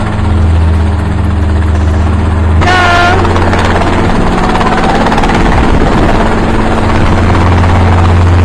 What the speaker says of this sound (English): The footage captures the moment an Mi-8 flying low was struck by fire and went down in a field in Donetsk